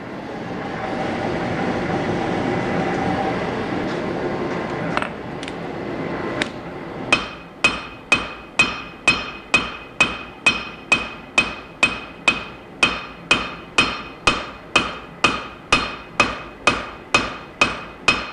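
A cross peen hammer forges a wootz steel knife blade: after a few seconds of rumbling background, a long steady run of loud, evenly spaced ringing hammer blows follows, with no talking.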